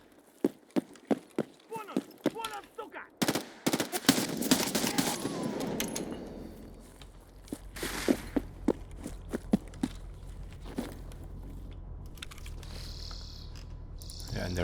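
Gunshots from the shooter game Escape from Tarkov ring out as a string of sharp, separate cracks, some near and some farther off. Someone talks over the shots, and insect-like chirping runs in the background.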